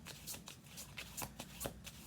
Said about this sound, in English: we're doing 2 more shuffles here